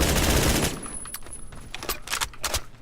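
An assault rifle fires at 900 RPM in Roblox Phantom Forces, a dense, loud burst of rapid automatic shots that breaks into a few scattered, quieter shots.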